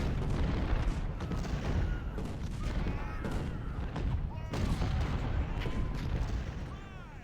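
Union 20-pounder artillery guns fire in Ultimate General: Civil War, a dense, continuous rumble of booms and crackling volleys under battlefield noise, with a voice faintly mixed in.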